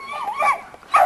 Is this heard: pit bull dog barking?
yes